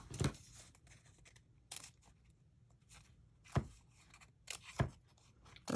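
Scissors snipping through paper pieces while assembling a heart-shaped box for Mother's Day, a few separate sharp close cuts spaced out across otherwise quiet moments.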